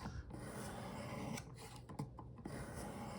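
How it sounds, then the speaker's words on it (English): A knife blade is drawn across a Work Sharp sharpening stone in repeated rasping strokes, a quiet scraping rhythm with short gaps between passes and no talk. "you can probably hear the difference in this knife sharpening"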